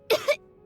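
A character in a Genshin Impact cutscene coughs twice in quick succession, close and clear, with silence after.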